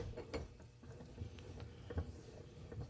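A restored, freshly painted and oiled Prentice bench vise is cranked open and closed in a workshop, giving soft, quiet clicks and ratcheting taps in an uneven rhythm, close by.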